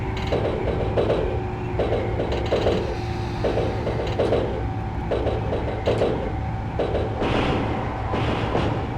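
Train running uphill in the video game Densha de GO! Final, a steady mechanical rolling drone with a repeating clatter of short rhythmic clicks and a sustained tone, continuous and fairly close with no talking.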